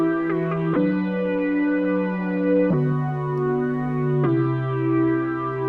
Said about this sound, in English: I've called it Warm Sine Chords because I just think it sounds really nice, and it sounds like this.